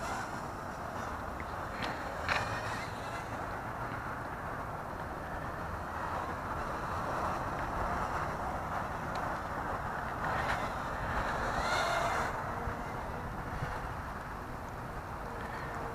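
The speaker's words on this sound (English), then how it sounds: "And it's really windy out here today, folks. Really windy." Strong wind outdoors during a DIY drone flight, a continuous broad rushing roar buffeting the microphone, rising in gusts now and then, with no voices.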